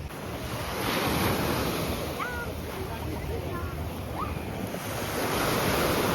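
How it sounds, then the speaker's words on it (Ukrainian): Black Sea waves wash steadily onto a beach at Chornomorsk with a broad rushing roar, mixed with wind buffeting the microphone, and a few faint distant voices. "Бачу, що сьогодні є хвилі"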